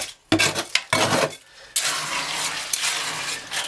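Concrete from 40-pound bags is mixed by hand, with loud gritty scraping and churning in bursts, one short pause, then a long continuous rough mixing sound.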